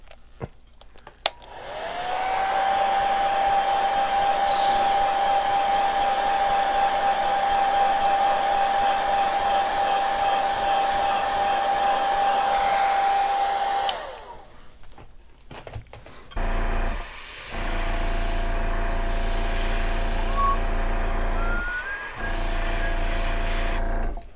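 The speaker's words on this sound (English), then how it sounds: "Let's go ahead and hit this with the heat set real quick." A heat gun blows steadily to set paint on a fishing lure, a loud continuous airy roar with a faint whine that runs for about twelve seconds, then cuts off and restarts more roughly with brief breaks.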